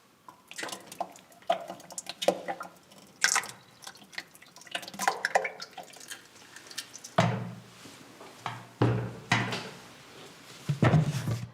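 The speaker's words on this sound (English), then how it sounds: "pour the cream into the churn. Now I tend to pour it at quite a height so that it aerates" Cream is poured from a height into a butter churn at Audley End House, making wet splashing and dripping in uneven bursts, close up, with a few louder pours near the end.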